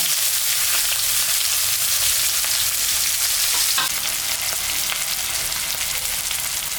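Chopped onion fries in a pan with cumin, dried red chilli, cardamom and bay leaves, giving a loud, continuous close-up sizzle with occasional stirring scrapes throughout.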